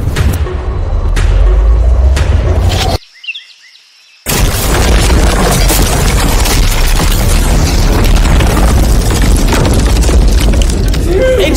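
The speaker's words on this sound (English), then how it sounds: "The car actually survived the blast with only a few minor scrapes." An armored car is blown up in a huge, loud blast that fills the whole spectrum, followed by a brief muffled gap and then a long, roaring rumble of debris and wind.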